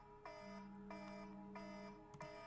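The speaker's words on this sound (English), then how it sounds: "That's my alarm." An alarm goes off indoors, sounding a quiet electronic beeping tone that repeats in an even pattern of short bursts, roughly one or two a second.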